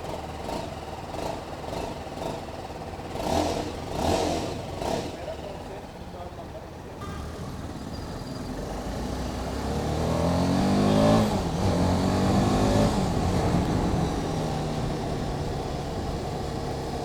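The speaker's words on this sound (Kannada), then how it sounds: "ನಿಮಗೆ ಎಕ್ಸಾಸ್ಟ್ ನೋಟ್ ಕೇಳ್ತಾನ." A BMW G 310RR 300cc motorcycle engine runs with a few short throttle blips early on, then climbs into a longer rising rev and settles into a steady exhaust drone, heard close up.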